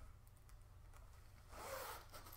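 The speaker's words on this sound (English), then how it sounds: "And you can also zip it up." A jacket zipper pulled up in one quick, quiet zip near the end, after a faint background hiss.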